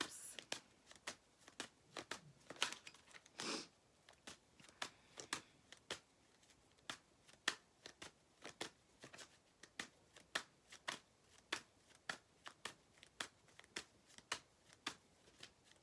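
A tarot deck is shuffled close up before a single card is drawn. Crisp card flicks and snaps repeat in a fairly even rhythm throughout.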